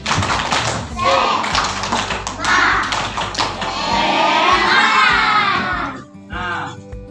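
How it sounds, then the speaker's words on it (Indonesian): Children in a classroom perform a 'tepuk semangat' clapping chant, loud rhythmic claps mixed with shouted chanting voices in bursts, ending with a brief pause and a short voice. "kita tepuk semangat dulu sekali lagi ya, tepuk semangat"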